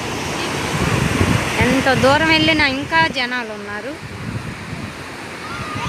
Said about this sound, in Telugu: ఇలా అలలు చూడండి ఎలా వస్తున్నాయో తెల్లగా